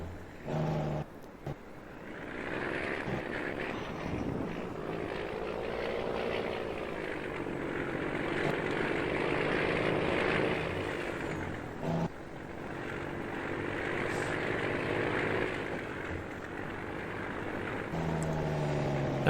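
A semi truck's engine brakes in a farming simulation game give a loud, rumbling engine roar that rises and falls, with brief dropouts near the start and around the middle.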